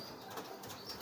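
A homing pigeon flaps its wings in a brief, soft burst of fluttering, close by and alone with no voices.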